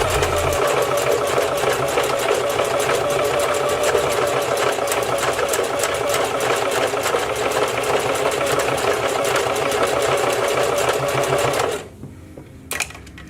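Sewing machine running steadily at high speed, a dense rapid mechanical chatter stitching hair tracks, loud and close, stopping abruptly near the end with a brief clack after.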